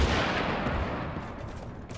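An Arma video game battle, where a rocket is fired at a tank: a dense, roaring burst of explosive noise that stays loud and continuous, slowly fading toward the end.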